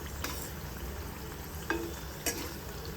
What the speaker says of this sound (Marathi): तेल कमी टाकल्यावरती तळायला जरा मुश्किल वाटते